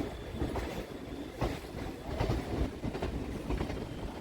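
A suburban train on the Kolkata Circular Railway, moving between Majerhat and Dum Dum on the Sealdah north-south line, rumbles steadily with a rhythmic clickety-clack of wheels over rail joints, heard fairly close.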